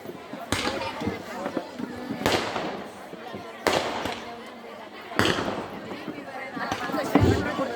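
Firecrackers burst one after another at a public gathering, sharp, loud bangs spaced a second or two apart, with crowd noise and voices in between.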